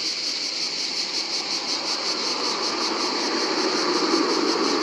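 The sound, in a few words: Hunter Quad M5 electric scooter riding noise, like a passing truck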